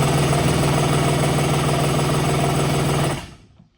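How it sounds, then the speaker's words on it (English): A Kawasaki ZXI jet ski engine fires up for its first start after an engine swap, running loud and steady with a droning hum and rattling vibration close by, then cutting off abruptly near the end. "first start, the engine swap"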